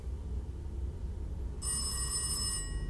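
A telephone rings once in the police-management video game This is the Police, a bright electronic bell tone lasting about a second over a low ambient background hum, with no speech.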